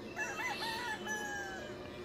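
A roundhead cross gamefowl rooster crows in one long, clear call of about two seconds with rising and falling pitch, fairly close and alone with no talk.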